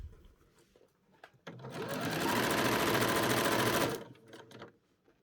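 A sewing machine stitches a skirt onto a bodice in one loud, close, sustained burst of rapid needle chatter lasting about two and a half seconds, with quiet room noise before and after.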